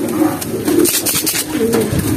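Several low, burbling coos from a close pigeon, repeated in short phrases with faint rustling between them.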